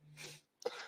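A single quiet sneeze indoors, a short breathy intake followed by a sharp burst of air.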